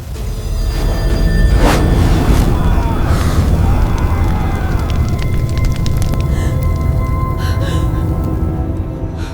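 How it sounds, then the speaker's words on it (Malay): Roaring hellfire effect: a loud, continuous deep rumble and crackling roar with bursts and booming swells, dense and close throughout. "Lihatlah, inilah api neraka yang mengerikan."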